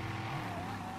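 A car drives over rocks in GTA Online, a steady loud engine and tire roar with a faint squeal running through it, continuous for the whole moment.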